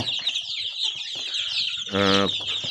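Leghorn hens cluck in a near, steady chorus, with one loud, harmonic squawk standing out near the end.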